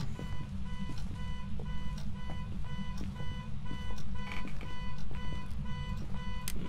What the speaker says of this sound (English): I hate the sound of the car alarm.